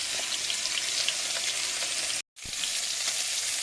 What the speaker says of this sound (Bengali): এদিকে মাছ ভাজাটা হচ্ছে।